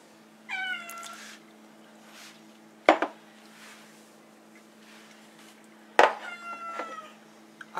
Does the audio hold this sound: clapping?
no